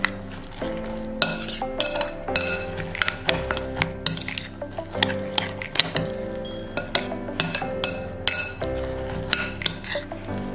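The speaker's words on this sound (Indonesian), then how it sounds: "Terus kita aduk dulu biar tercampur." Corn and spinach fritter batter gets stirred in a bowl, a spoon clinking and scraping against the sides in a quick, uneven rhythm, close and bright with no talking.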